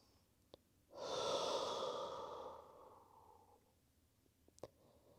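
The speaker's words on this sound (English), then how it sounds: "Take 2 full breaths into the belly, into your low back and sides." A single slow, deep belly breath taken during a yoga session, a soft close airy exhale lasting a couple of seconds before fading, with small clicks around it.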